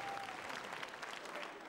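Theatre audience applause at a performance of Abigail's Party, imitated by a voice: a dense, steady, fairly quiet wash of clapping lasting under two seconds.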